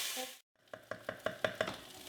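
Onions sautéing in a mix of canola, olive and grapeseed oil sizzle softly after a brief silence, with a run of regular scraping stir strokes pulsing through the quiet frying.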